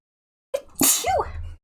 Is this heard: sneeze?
yes